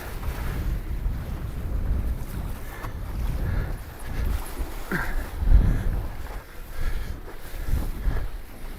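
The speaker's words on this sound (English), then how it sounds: "Got some good waves, got a lot of wind." Strong gusting wind buffets the microphone while wing foiling on choppy water in extremely cold weather, with waves washing underneath, rising and falling in loud surges.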